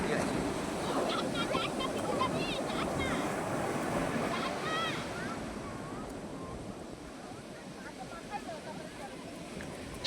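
Steady roar of sea waves breaking at Puri beach, a continuous broad wash with wind buffeting the microphone, easing slightly midway, with faint voices in the background.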